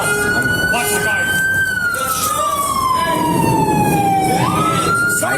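Police car siren wailing loud and close, its tone sliding down slowly and then jumping back up, with voices and commotion at an arrest scene around it.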